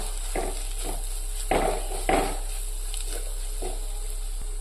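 Kashmiri chili powder stirred in a hot pan for a mackerel fish curry, giving a few short scraping strokes over a steady, faint sizzle.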